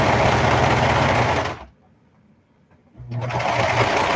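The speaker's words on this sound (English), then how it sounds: "Just sewing this together so that I can make" A sewing machine stitches fabric panels together for a cover, running steadily and loudly, pausing for about a second and a half, then starting up again.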